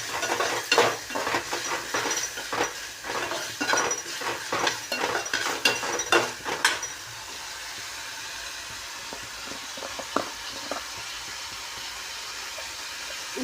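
Tomato and onion fry in a pan, with busy stirring and sizzling that stops about halfway, leaving a quiet hiss with a few faint knocks.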